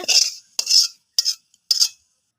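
Bitter gourd fry scooped from a pan into a bowl, heard as four close, distinct scraping strokes of a metal spoon, each followed by a brief pause, with no talk.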